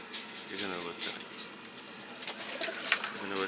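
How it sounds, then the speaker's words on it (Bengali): Racing-breed pigeons coo softly and repeatedly from a loft holding eggs and chicks, the low burbling calls near and steady, with other bird sounds and some background noise mixed in. "বেসিক্যালি তিনটে গুলো রেসার জাতের কবুতর"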